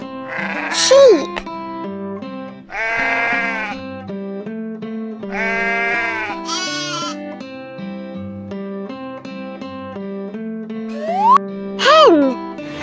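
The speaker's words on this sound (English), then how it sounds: "Sheep." A toy farm animal plays a recorded sheep bleating over background music, with several wavering bleats spaced across the clip, clear and close.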